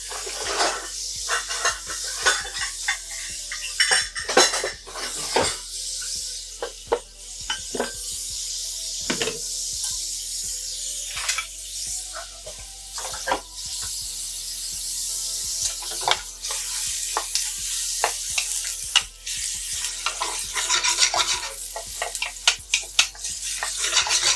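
Steady sizzling of garlic and onion in a hot Instant Pot with clinks of a utensil stirring and scraping against metal, close by, no talking.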